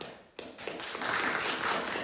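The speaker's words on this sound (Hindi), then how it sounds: "अपने चर्च के लिए एक बार ताली बजाओ" A church congregation claps during a Sunday sermon, starting with a few scattered taps after a brief pause and swelling into a fuller burst of applause, heard somewhat quietly in a reverberant room.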